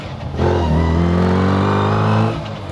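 A car engine revs up loudly and close by while driving, holding a steady droning roar with rising harmonic tones for about two seconds before easing off, with no talk over it.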